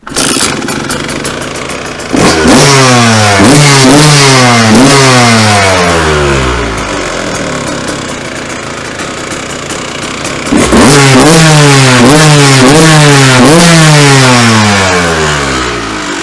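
A motocross motorcycle engine fires up and revs hard in repeated rising bursts, drops back to a rough idle, then revs up again loudly, close by and with no talk.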